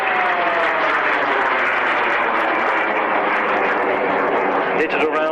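A Decathlon aerobatic aircraft flies at the 1999 Woodford Airshow through a stall turn and an inverted roll, its engine a steady, fairly close droning whine with a shifting pitch, heard under a commentator's voice.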